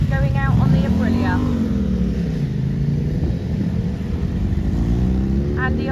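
An Aprilia RS60 motorcycle rides out onto a race circuit at the Andalucia Circuit in Spain, its engine note climbing and falling in pitch as it pulls away, loud and close, with a voice briefly over it.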